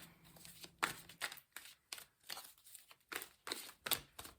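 Tarot cards shuffled by hand in a series of quick riffling bursts and crisp slaps, close and fairly quiet, with no talking.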